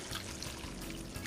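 Hot coleslaw dressing, brought to a simmer, is poured over the vegetables in a short, steady stream with a soft, faint splashing trickle and no voices.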